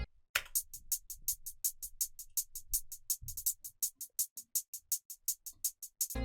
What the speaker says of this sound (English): made a 2-step hi-hat pattern